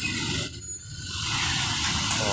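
A Rosalia Indah intercity bus departing from a depot toward Java, with a sharp hiss of air brake release over a steady low diesel engine rumble, fairly loud and close.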